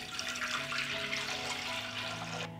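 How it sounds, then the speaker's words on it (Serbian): A litre of cold water gushes steadily into a 6-litre metal pressure cooker holding jars, a loud continuous rushing pour for a few seconds that stops abruptly at the end. "Stavljam tegle u šerpu i naliću sada sa hladnom vodom."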